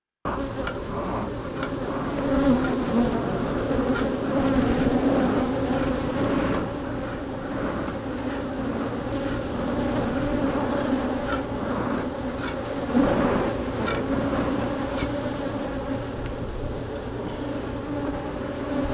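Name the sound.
honeybees buzzing around a hive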